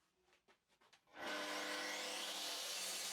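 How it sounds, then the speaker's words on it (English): A nylon brush spun by an impact driver scrubs bark off a live-edge walnut slab: a few soft knocks and scrapes, then a sudden loud, steady whirring abrasive hiss that holds to the end. "it clips into the end of an impact driver or drill, and it's great for removing any dirt or leftover bark without losing the character of the live edge"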